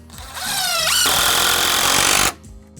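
A power driver sends a screw at an angle into a wooden deck railing: a whirring spin-up, then one loud, sustained grinding run of about a second and a half, close by, ending abruptly with no talk.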